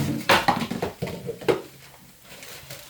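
A baking tray pulled out from among metal pans, a burst of loud clattering and bouncing clanks in the first half, then a few lighter knocks settling down.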